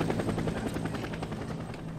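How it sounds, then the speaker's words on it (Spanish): A helicopter in the video game Days Gone flies at night, its rotor beating in a steady rapid chop that stays fairly loud and constant throughout, with no voices. "Mira, el helicóptero que tenemos que seguir."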